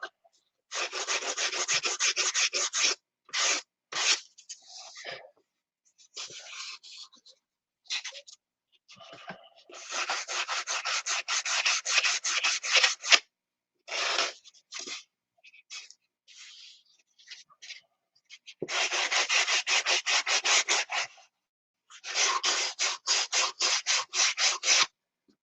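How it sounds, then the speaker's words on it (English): A wooden wing rib is sanded to shape by hand, giving close, rhythmic back-and-forth rasping in bursts of rapid strokes separated by short pauses and quieter scraping. "Okay, there's one rib sanded to shape."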